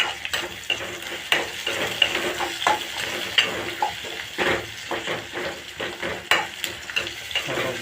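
Onion frying in a pan for a chicken dish while being stirred, giving a continuous sizzle broken by repeated scraping and clattering strokes of a spoon, close and moderately loud.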